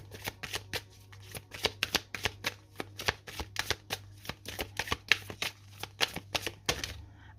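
A deck of oracle cards is shuffled by hand in quick, close riffling bursts, an irregular run of crisp flutters over a faint steady hum, with no talking.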